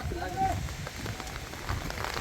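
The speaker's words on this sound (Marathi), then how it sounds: "पावसाचं खूप सुंदर वातावरण वारा पण खूप आहे" Steady rain patters on a surface with a constant hiss amid strong wind, while a voice talks faintly underneath.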